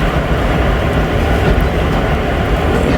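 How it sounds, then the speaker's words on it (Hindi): A train pulls away on the journey toward Attock City Junction, heard from inside as a loud, steady low rumble and roar of the carriage rolling along, with no talking. "चलें जी, डिपार्ट हो रही है जी हमारी ट्रेन"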